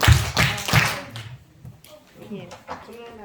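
Church congregation claps three times in unison, three loud, sharp group claps at a steady beat followed by quieter room noise and murmured talk.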